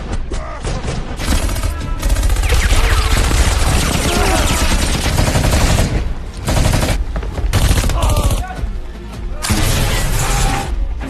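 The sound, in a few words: gunfire in an action film shootout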